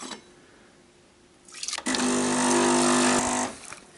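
Aldi K-Fee pod coffee maker flushing a water and vinegar descaling solution, a quiet gurgle swelling into a loud steady pump hum and hiss for about two seconds before cutting off.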